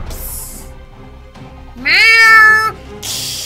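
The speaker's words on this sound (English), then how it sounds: "Meowing and hissing ferociously, the colossal cat took three giant" A cat gives one loud, drawn-out meow up close, with quiet pauses before it and a brief noise burst on each side, during a children's book reading.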